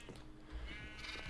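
Sheep bleating in the video game Minecraft, a couple of short wavering bleats over a steady low background hum, moderately faint and without talk.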